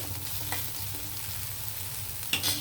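Chopped vegetables for cabbage rolls sizzle steadily in a hot pan, with a few scraping stirs of a spatula and one louder clatter near the end, close by and without talk.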